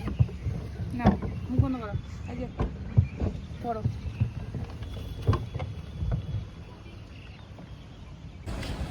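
Motor boat driven on a lake in Shillong, heard close with a choppy engine and water wash, wind buffeting the microphone and several people talking over it.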